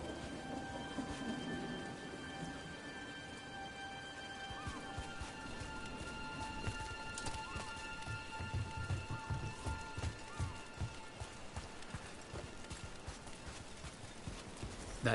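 Steady rain falls over a faint, distant rumble of thunder while hooves clop along slowly and a few soft noises pass through, the whole scene quiet and continuous with no talk.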